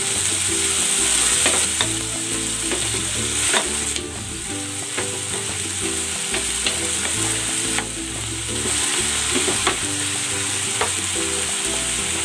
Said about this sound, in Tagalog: Igigisa ko na rin tong kamatis. Native kamatis ang ginamit ko dito.